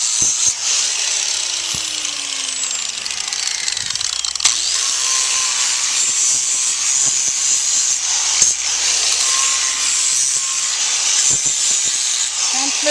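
A power grinder, probably used on horse hooves, finishes a bevel from the bottom with a continuous, loud high whine that runs throughout, broken by a few scraping clicks and faint shifts in pitch.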